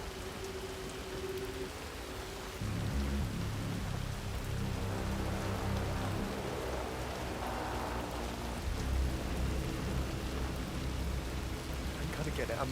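Steady rain pours in the video game Hitman 3, a constant broadband hiss of drops on surfaces with a low rumble beneath, continuous and fairly loud throughout.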